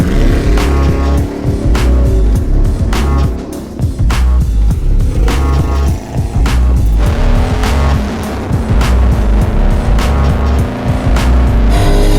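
A project car laps a race track in a challenge event, engine roaring loudly and repeatedly rising through gears with tire squeal, passing close with steady high volume for the whole stretch.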